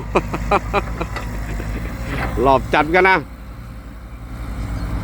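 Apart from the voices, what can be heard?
160 hp Nissan diesel engine running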